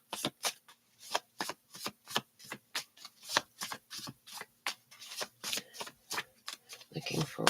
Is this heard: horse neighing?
no